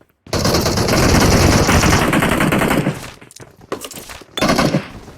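Rapid automatic gunfire from an Uzi in the mobile game PUBG Mobile rattles loudly for a few seconds, then stops, with a few scattered shots and a short final burst.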